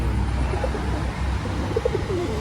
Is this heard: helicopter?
no